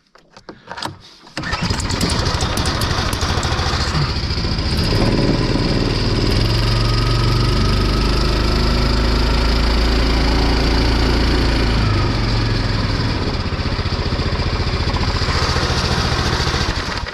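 An outboard boat motor starts with a brief sputter, then runs loud and steady at close range as an angler steers nearer the riverbank, with no talk over it.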